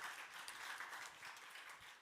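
Audience applause at a biotechnology pitch session, a steady wash of many hands clapping at moderate distance, sustained and even throughout with no voices over it.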